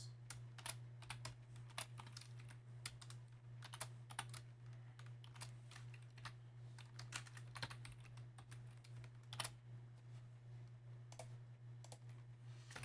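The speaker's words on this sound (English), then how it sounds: "I'm going to type in the 2 original equations" Rapid, uneven key clicks from equations being typed on a TI-Nspire calculator, close and crisp over a steady low electrical hum, with no talking.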